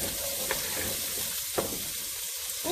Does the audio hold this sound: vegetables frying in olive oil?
yes